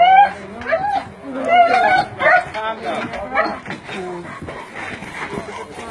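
A distressed dog barks and whimpers during a bailiffs' eviction from a home, yelps and whines rising in bursts among several people talking nearby.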